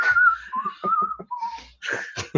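A person whistles the theme from The Good, the Bad and the Ugly, a short wavering melody of sliding notes, close and clear, broken by breathy gaps.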